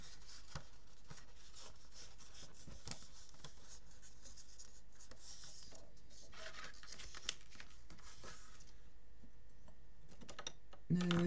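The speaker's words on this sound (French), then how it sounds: "On marque les plis." Fold lines are scored on paper for a card page in a wedding album, giving close, faint scraping and rubbing strokes in short repeated passes with brief clicks, and a voice is barely present.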